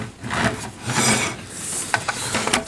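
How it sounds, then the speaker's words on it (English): Plastic Transformers Combiner Wars Long Haul toy truck pushed along, its tire dragging underneath and giving an uneven rasping, scraping rub in several close bursts. "if you push down on the tire roll, but you can still hear it dragging underneath."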